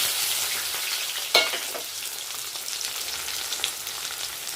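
Curry leaves, onions and green chillies fry in a pan with a bright, steady sizzle, and one sharp stirring clack near the start, close up with no speech.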